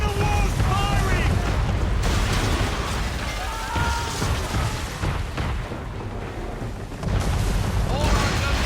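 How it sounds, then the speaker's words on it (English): Man-of-war warship cannons fire during a naval battle in Assassin's Creed 3, a dense rumble of heavy booms and blasts that stays loud throughout, with shouting voices mixed into the din. "Man of war's firing!"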